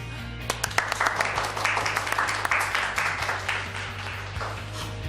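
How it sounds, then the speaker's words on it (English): A secondary school English class gives a round of applause for a student group running for Student Union, with steady, crisp clapping from many hands carrying on under a low room hum. "Let's give a round of applause to POP, Power of the People"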